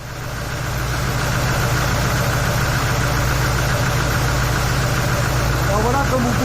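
An Oldsmobile 5.7-litre diesel V8 engine settles from a cold startup into a steady, loud idle with an even, knocking rhythm; a voice may come in near the end.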